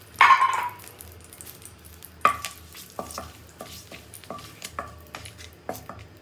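Whole spices, including bay leaf, mace, clove and a small piece of cinnamon, are stirred in melted butter in a pan, giving a sharp initial sizzle followed by scattered close scraping and clinking of a spoon against the pan.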